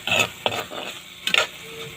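A utensil stirs sizzling greens (talbos of kamoteng kahoy) with fish in a hot frying pan, making a few quick scraping strokes over a soft continuous frying crackle, close and fairly loud.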